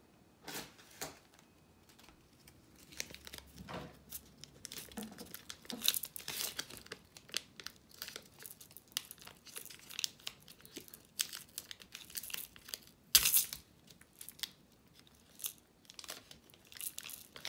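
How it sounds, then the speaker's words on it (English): Masking tape is cut and wrapped around the handle of a homemade maraca, giving a steady run of close crinkling, tearing and sticky crunching sounds with no talking. "you're going to take your masking tape and cut a piece so then you can wrap your whole handle."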